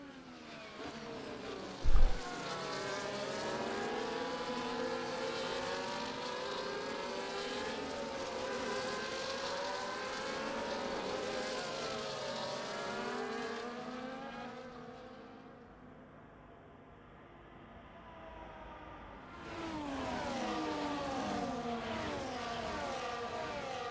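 Several race cars circulate behind the safety car at Qatar in a Formula One style racing game, their engines droning and whining steadily in layered overlapping tones, briefly easing down before building again.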